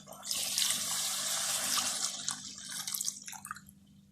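Half a litre of water pours steadily into a cooking pot of chicken nihari for a few seconds, splashing and gurgling up close, then trickles off into drips.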